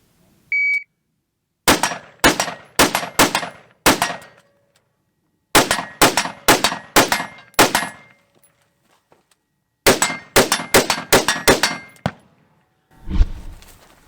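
Three rapid strings of sharp gunshots at a shooting range, four or five shots each, ring out loudly with short pauses between bursts, followed by a low rumble at the end.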